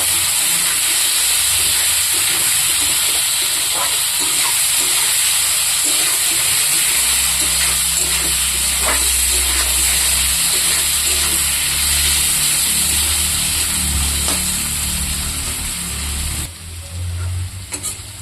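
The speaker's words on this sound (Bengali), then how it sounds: "এটা দিয়ে এটাও লাল লাল করে ভাজা করে নেব।" Potatoes with salt and turmeric fry in hot oil with a loud, continuous hiss and crackle. Occasional pops rise from the oil, and the sound eases off near the end.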